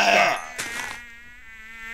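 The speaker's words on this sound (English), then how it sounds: "Mosquitoes! I hear you!" High, whining insect buzz of mosquitoes in the Minecraft video game, a dense tonal drone that stays steady for a couple of seconds, loud at first and then a little softer.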